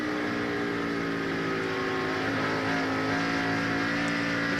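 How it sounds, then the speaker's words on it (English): Onboard NASCAR stock car engine at the 2003 UAW-DaimlerChrysler 400, held at a loud, steady full-throttle drone through a spin, never lifting, with a constant dense roar and little variation. "Listen, that engine there."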